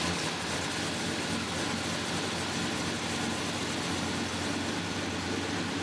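A Ford Fairlane fitted with a 1UZ V8 idles roughly with a misfire, a steady low engine rumble running unbroken and fairly loud throughout, with no talk over it.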